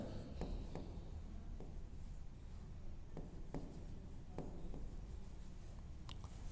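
Chalk or marker scratches on a board during a chemistry lesson, a series of short, separate strokes and taps over quiet room tone, with no talk.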